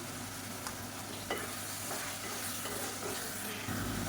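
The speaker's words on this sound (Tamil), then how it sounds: "இப்போ தயிர் சேர்த்து நல்லா வதக்கியாச்சு." Curry with a tablespoon of curd stirred and sautéed in an oiled pan, giving a steady close sizzle with occasional scraping stirs, no talking.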